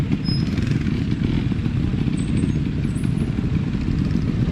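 Motorcycle engine held at steady throttle during wheelie practice on a downhill training run, a continuous loud low rumble with no breaks throughout.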